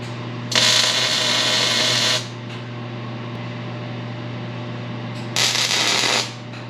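Two short bursts of welding tacking a roll bar into an E36 convertible, each a loud crackling hiss lasting one to two seconds, separated by a steady background hum.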